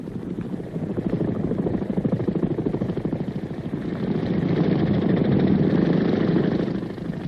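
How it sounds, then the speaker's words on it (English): A steady, throbbing CH-46 military helicopter engine drones close by, rotor chop pulsing continuously and swelling slightly louder toward the end, in 1968 Marine Corps footage. "from the big CH-46 helicopters that bring in the ammunition, food, and water"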